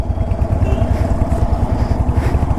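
A motorcycle engine rumbles steadily and loudly up close, a low continuous throb with rhythmic pulsing as the bike sets off on a long ride.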